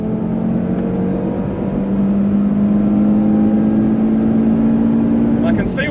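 A car accelerating on a racetrack, the engine holding a steady, loud drone that rises slightly in pitch and then cuts off near the end.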